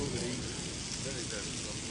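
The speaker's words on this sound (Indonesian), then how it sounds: "beliau menemukan titik perbatasan akhir hujan" Heavy rain pours down steadily as a dense, continuous hiss, loud and close throughout with no break.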